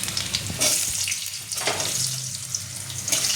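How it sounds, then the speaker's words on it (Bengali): Cubed potatoes fry in hot oil with cumin in a pan for a Bengali moong dal curry, giving a steady, close hiss and sizzle with brief louder crackles. "আলুটা আমি হালকা লাল লাল করে ভেজে নেবো।"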